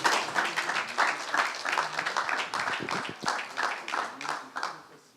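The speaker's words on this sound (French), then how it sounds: "On l'applaudit quand même" An audience applauds a finalist at a regional business-school sales competition final, with dense steady clapping throughout, moderately loud and unbroken.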